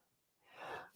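A single short, quiet human sneeze bursts out after a brief silence, rising to a breathy peak and fading within a second.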